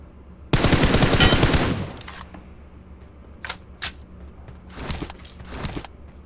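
Gunfire in PUBG Mobile: a long, loud automatic burst, then several short separate volleys of shots. The shots sound close and sharp.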